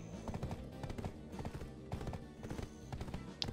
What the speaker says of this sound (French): oh, un cheval blanc, un cheval pur